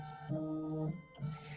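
An embroidery machine stitches a placement line for the base fabric in Horizon Pink thread, giving a close, steady mechanical hum with brief tonal whirs.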